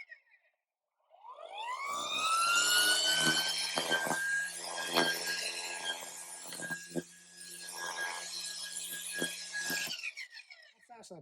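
A Ryobi One+ 18V cordless brushless string trimmer spins up from silence into a loud, steady high-pitched motor whine that holds for about nine seconds, with scattered clicks and rattles, then winds down.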